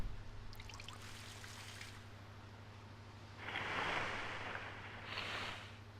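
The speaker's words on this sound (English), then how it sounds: "pour water on this tree" Water pouring onto a tree in the video game The Legend of Zelda: The Wind Waker HD, a soft splashing rush that swells for about two seconds and then returns briefly, heard alone over a steady background hum.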